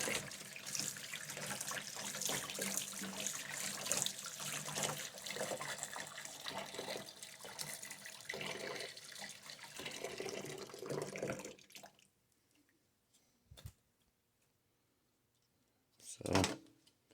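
Running tap water rinses a Sega Saturn console part in a sink, a steady close splashing stream lasting about twelve seconds before cutting off, followed by a couple of brief knocks.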